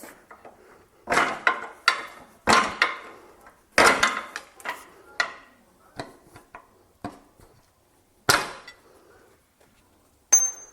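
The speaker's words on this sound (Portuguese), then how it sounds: "Soltei a mola, vou soltar a outra agora." Sharp metallic clanks and knocks from car suspension work as a coil spring is freed after the shock absorber has been removed, irregular close strikes with quiet gaps between them and a brief ringing ding near the end.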